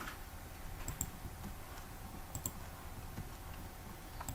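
Mouse clicks on a computer during AutoCAD drafting, a few faint, sharp clicks scattered over a steady low background hum, quiet and close.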